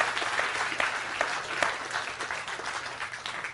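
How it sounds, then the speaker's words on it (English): Audience applause rises in a dense, even patter of many hands clapping, moderately distant and continuing steadily without voices. "Give a round of applause."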